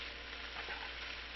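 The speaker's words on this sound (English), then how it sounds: "Then we're going to blanch, brown our already cooked spaghetti." Already-cooked spaghetti browning in butter on high heat gives a steady, dense sizzle, close and continuous without breaks, and no one talks over it.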